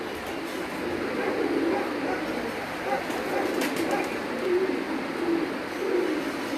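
Breed pigeons cooing on a rooftop loft, soft repeated coos in a steady outdoor murmur, with voices and a faint dog bark nearby.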